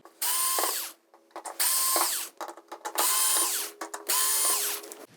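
Four screws being driven out of a Westinghouse WR50UX4019 TV power supply board with a power screwdriver, in four loud whirring bursts separated by short pauses and small clicks, close up.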